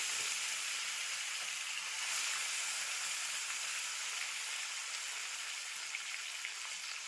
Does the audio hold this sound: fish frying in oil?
yes